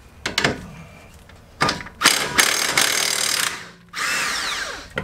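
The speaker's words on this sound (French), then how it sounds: "Alors, l'écrou, d'un côté, c'est du 18." A ratchet wrench works an 18 mm nut on a suspension axle from the front subframe of a Peugeot 407/508 or Citroën C5, giving several close, sharp clicking bursts followed by a longer steady mechanical whir.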